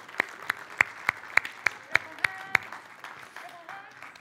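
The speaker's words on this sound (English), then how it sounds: "Let's give them a big clap as they come back in." Church congregation clapping as children return, a sparse run of about ten sharp, evenly spaced claps that fades out, with a little talk in the room.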